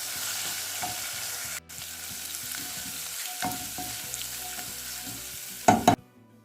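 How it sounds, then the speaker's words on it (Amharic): Chopped garlic fries in an iron pot, a steady close sizzle broken by stirring scrapes and a sharp clatter near the end. "በብረት ድስት ላይ 2 ነጭ ሽንኩርት፣ 2 ፍሬ ነጭ ሽንኩርት ጥቂት አድርጌ ከትፌ በዚህ አቁላለዋለሁ"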